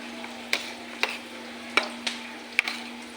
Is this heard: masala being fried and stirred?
yes